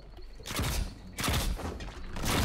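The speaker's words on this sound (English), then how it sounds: "Oh, I got the sticky grenades going." Sticky grenades go off in the Nosgoth video game during a deathmatch at Freeport, two dense, crackling bursts of blasts that rumble and hiss over a busy background.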